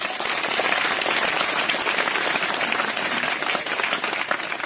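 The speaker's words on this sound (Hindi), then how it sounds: "पवित्र वचनों के लिए जोर से ताली लगाएंगे" A church congregation claps loudly and steadily for the holy words at a Hindi-language Christian sermon, a dense, continuous wash of hands that holds for several seconds.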